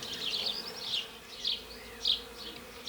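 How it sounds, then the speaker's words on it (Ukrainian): Honey bees buzz around nucleus hives set up for mating two queens in an Alpine-style hive. A thin, steady hum rises in pulses as individual bees fly close past, with no talking. "бжілки переходять з одного нуклеуса в інший, от бжілка перейшла і пішла в цей нуклеус"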